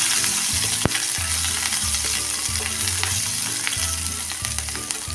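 Thin-sliced green chillies sautéing in hot oil, a loud continuous close sizzle with rhythmic scraping and stirring thumps from a spatula in the pan, and no voices.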